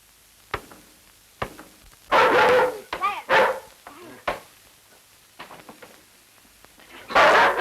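Dog barking in short, loud, close bursts, a few sharp knocks between them, with people talking and some woofs overlapping the voices.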